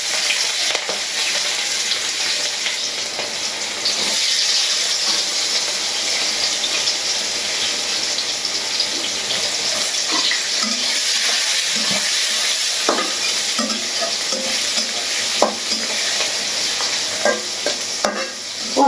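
Chopped onions fry in oil with black cumin in a wok, giving a steady loud sizzle with stirring scrapes and clinks across a long stretch, no talk.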